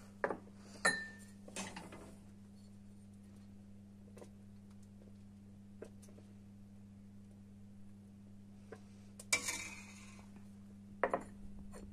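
Clay pots (çömlek) knocked and set down while being filled with baked rice pudding, giving a few sparse clinks and taps, with a steady low hum underneath.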